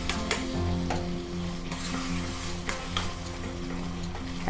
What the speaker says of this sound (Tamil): இந்த மாதிரி குத்தி குத்தி வதக்கிக்கோங்க. பாருங்கள், பழம் நல்லா வதங்கி எடுத்து பாருங்கள் நெய்யில்.